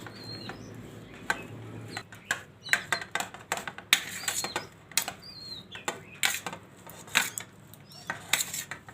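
Papaya sambharo is stirred with lemon juice in a bowl, a spoon clinking and scraping repeatedly against the dish in quick irregular bursts, with faint bird calls in the background.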